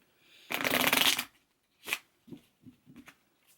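Tarot doorway cards are riffled in one dense, close burst, followed by several softer taps and flicks as the deck is handled, quiet and without speech.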